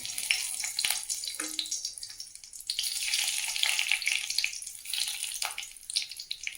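Whole cardamom, cloves and cinnamon frying in oil in a wok, a soft continuous sizzle that swells and fades with a few small pops; no talking.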